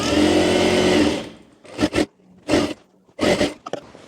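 A sewing machine stitches the outer side of a blouse in one steady, close whirring run, then stops; a few short rustling bursts of fabric handling follow.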